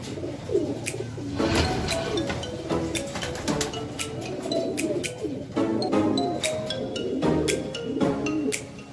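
Racing pigeons coo at a mini loft after returning from a 113 km training flight, with steady, close, overlapping throaty calls repeating throughout, plus a few brief chirps.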